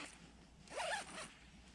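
A tent zipper on a small winter tent's front door slides open in one smooth pull, a brief, close rasp that swells mid-stroke and then fades.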